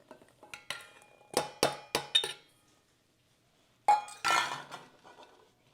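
Utensil clinking and scraping against a bowl while flour mixture is mixed into a cottage cheese mixture, a series of sharp clinks in two clusters separated by a quiet pause.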